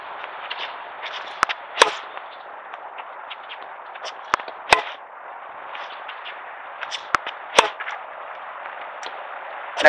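A tennis ball is drop fed and struck with a racket, giving several sharp, crisp impact cracks at irregular intervals over a band-limited background hiss.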